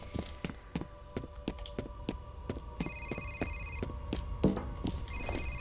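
A telephone rings repeatedly in the F.E.A.R. video game, a steady electronic ring pattern that starts after a few seconds and repeats through the rest of the clip, with sharp footstep-like taps throughout.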